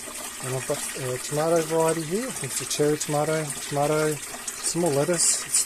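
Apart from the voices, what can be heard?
water running through a hydroponic tower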